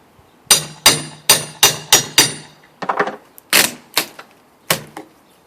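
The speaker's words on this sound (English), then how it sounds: "Cedar I put up, and of course I nailed it with stainless nails." A hammer drives stainless nails into cedar boards in about a dozen sharp, ringing blows, spaced in quick irregular bursts with brief pauses between.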